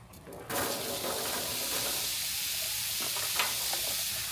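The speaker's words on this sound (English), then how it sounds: "we're just gonna cook this directly in the bacon grease" Diced butternut squash and zucchini sizzling in bacon grease on a griddle, a steady broadband hiss that kicks in sharply after a brief quiet start and holds evenly close-up, with a few faint stirring clicks.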